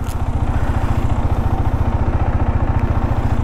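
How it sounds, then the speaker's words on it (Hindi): A motorcycle engine idles steadily and close by on a cold morning while warming up, with an even, rapid thumping rhythm throughout and no talk. "थोड़ा और वार्म अप कर लेता हूँ बाइक को"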